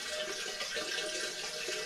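Cold water pours steadily into a 5-gallon brewing bucket for spiced apple cider, a continuous close splashing rush with no pauses.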